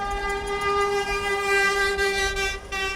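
Garbage truck horn blaring a long, steady, loud tone at a picket line, held continuously for about three seconds with street noise underneath.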